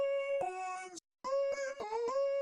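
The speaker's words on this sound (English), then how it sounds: "So if we turn the pitch all the way up and don't touch the formant," Vocal chop pitched all the way up in Soundtoys Little Alter Boy with the formant untouched: thin, squeaky, chipmunk-like sung notes in short bursts, a brief silent gap, then quicker stepped syllables, close and alone.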